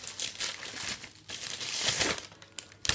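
A gift shop purchase from a cemetery Christmas market being unwrapped, with close, loud paper crinkling and rustling that comes in bursts, ending in a couple of sharp crackles.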